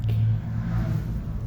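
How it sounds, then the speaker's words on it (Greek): A deep, continuous rumble of traffic passing above, muffled and heavy, with a low engine drone swelling slightly. "τα αμάξια είναι από πάνω"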